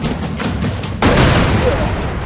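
A sudden deep boom from an explosion in the game The Exbendabros bursts in over low background noise, its heavy rumble lingering for a moment afterward.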